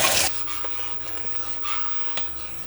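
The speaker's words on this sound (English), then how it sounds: "And then quickly stir it back together." A spoon scrapes and swirls through strawberry preserves after liquid pectin is added to the pot, opening with a louder rasping burst, then softer, intermittent scraping strokes against the pot with a couple of light knocks.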